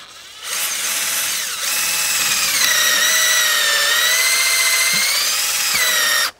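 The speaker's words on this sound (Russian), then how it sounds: "Беру шуруповерт со сверлом на 6 и вот так вот под углом" A cordless drill with a 6 mm bit whines loudly up to speed and bores steadily at an angle into a log for several seconds, its pitch wavering slightly before it stops abruptly.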